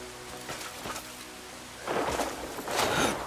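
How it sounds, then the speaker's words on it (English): Rain falling in the video game Crimson Desert, a steady hiss of downpour with a couple of louder surging washes toward the end, close and alone without talking. "This weather change. I love the rain."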